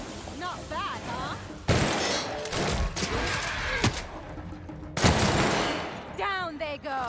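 Gunfire in The Outer Worlds, a sci-fi shooter game, set on a space station with blaring alarms: loud sharp bursts crack out close by amid chaotic crashes and game effects, with brief electronic chirps between them.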